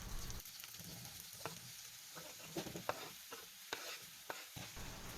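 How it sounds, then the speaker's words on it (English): Apple pieces frying in melted butter in a hot pan give a steady close sizzle, broken by scattered sharp crackles and spatters with no voices. "Pour 2 or 3 tablespoons of melted butter. The pan is already hot, so add the apples right away."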